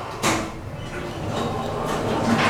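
A wide sliding door of a Schindler hydraulic tunnel elevator in a law building opens: a brief thump, then a steady rolling rumble that carries on for a couple of seconds, close by.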